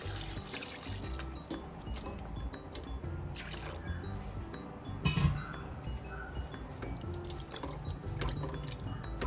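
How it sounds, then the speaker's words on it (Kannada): Water is poured from a glass into a pressure cooker of mutton for spicy Maharashtrian green mutton kharda, a close watery splashing and trickle with a few metallic clinks against the pot. "ಒಂದು 2 ಗ್ಲಾಸ್ ಅಷ್ಟು ನೀರನ್ನು ಸೇರಿಸ್ಕೊತೀನಿ."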